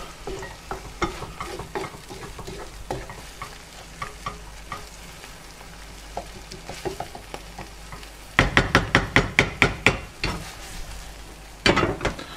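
Fenugreek leaves are stirred into a sizzling dansak or pathia curry in a pan, with a steady fry under the scrapes and a run of loud, rhythmic stirring strokes near the end, close and clear.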